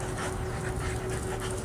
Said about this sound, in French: C'est une passante qui va passer avec ses petits chiens.